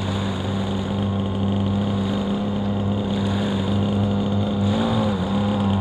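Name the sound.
boat with inboard-outboard motor running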